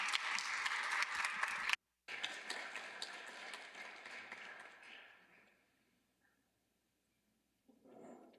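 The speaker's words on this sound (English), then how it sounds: "Let's give her a round of applause" Audience applause for Nobel laureate Setsuko Thurlow, a dense burst of clapping that cuts off briefly, resumes, then fades out, followed by a short stretch of faint sound near the end.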